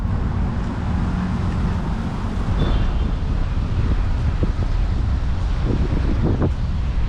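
Wind blows through an open park in Bangkok, a steady rough rushing that buffets the microphone throughout, with a low rumble of distant road traffic beneath it.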